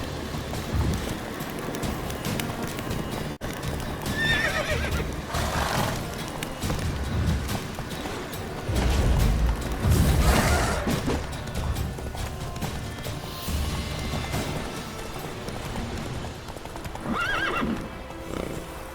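Roach the horse gallops in The Witcher 3 with steady clip-clop hoofbeats and occasional neighs and whinnies, loud and close throughout, with faint rain-like ambience behind.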